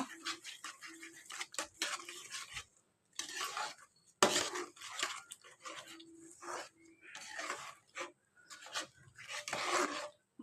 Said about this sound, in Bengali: মশলাটাকে এবারে আমি কষাবো